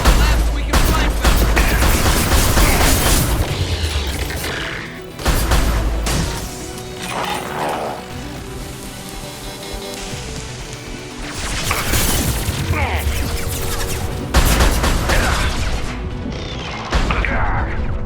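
Gunfire in a Mass Effect 2 Legendary Edition firefight comes as loud, repeated bursts and crashing impacts, with sustained volleys over a rumbling battle din.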